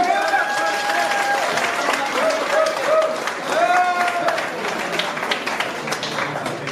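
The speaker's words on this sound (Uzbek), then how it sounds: "Qizg'in olqishlarimizni bergan bo'lsak" Audience applause rises for a performer walking onstage at a live Uyghur comedy show, a steady dense clapping crowd sustained throughout, with an announcer's voice and tonal music lines running over it.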